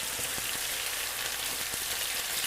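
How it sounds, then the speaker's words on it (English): Chicken sears aggressively in a hot pan for homemade takeout-style pad thai, giving a steady, loud, close sizzle with scattered pops and crackles throughout. "Now I have a more aggressive sear sound."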